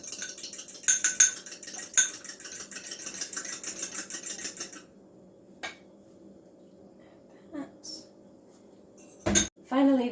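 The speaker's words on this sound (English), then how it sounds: "Give that a quick whisk" A whisk clatters rapidly against a bowl of pikelet batter in a home kitchen, several seconds of busy metallic rattling and clinks, then a pause with a few isolated knocks and scrapes.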